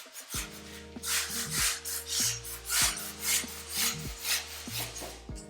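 A hacksaw cuts through a block of green florist foam in slow, steady back-and-forth strokes, a soft rhythmic rasp repeating about twice a second, heard close over a quiet low background hum.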